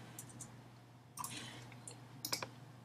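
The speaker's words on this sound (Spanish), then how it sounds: "Doble clic aquí en el nombre" Sharp clicks of a computer mouse while working in Photoshop, a few quick taps and double clicks spread out over a few seconds against a low, quiet room hum.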